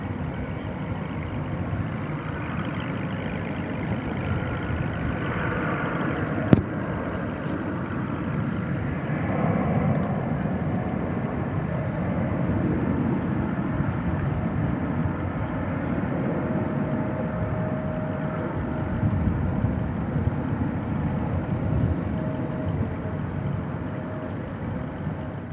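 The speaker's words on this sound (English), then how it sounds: "There goes American Flight 1273 to Reno, Nevada," An American Airlines Boeing 737-800 bound for Reno takes off at night at DFW Airport, its jet engines a broad, steady distant roar sustained for the whole stretch with one brief sharp click early on.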